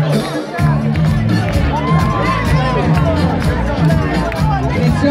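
Crowd at an Italian summer DJ event on an outdoor terrace in Rome cheering and applauding in a loud, continuous roar over pounding dance music, with shouts and whoops mixed into the babble.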